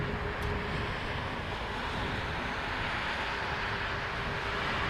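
A Boeing 787 Dreamliner jet airliner arriving, a steady broad roar of engine noise with a faint whine, sustained and even throughout with no talk.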